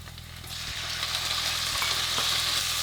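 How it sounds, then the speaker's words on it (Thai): Shallots and pork stir-fry in a hot pan, giving a steady close sizzle with a low hum underneath and a couple of brief knocks or stirs. "ผัดหอมแดงให้สุกเลย"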